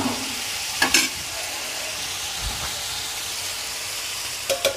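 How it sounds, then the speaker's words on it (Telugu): Crab curry masala is stirred in a hot pan, a steady frying sizzle with a few scraping strokes of the spoon at the start and end, close and without talk. "ఇవన్నీ సమంగా కలిసేటట్టు తిప్పుకొని మూత పెట్టుకుని ఉంచుకుందాం"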